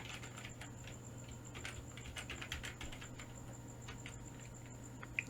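Faint, steady keyboard typing while entering code in a text editor, quick light keystrokes pattering along over a constant low electrical hum, with no voices.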